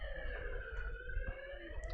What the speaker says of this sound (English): Probably hear and see the ambulance